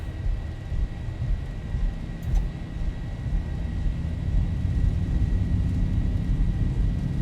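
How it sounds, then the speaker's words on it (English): A Boeing 737-800 in a flight simulator spools its engines to takeoff power, giving a loud, steady, broadband roar with a deep low-frequency rumble that slowly builds. No one speaks. "Power up to takeoff. Takeoff power is set."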